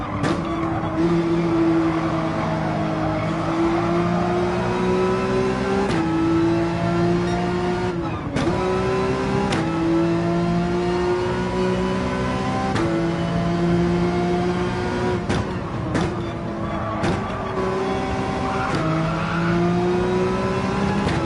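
Race car engine in Gran Turismo 7 holding a loud, sustained drone with steady pitch shifts as it revs up through gears, broken by several brief gear-change dips and tire noise, with no talk.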